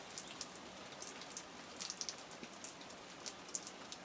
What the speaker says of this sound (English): Always nice to get some good rain on the garden.